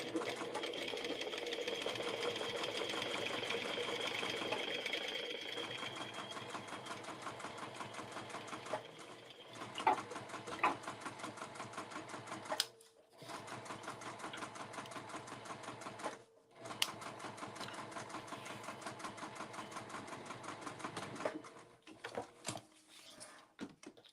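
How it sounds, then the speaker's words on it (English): A sewing machine runs steadily while stitching a bag seam at a 3mm stitch length, a fast even mechanical whir close by that stops briefly a few times before starting again. "I like to use a 3mm stitch length on my machine"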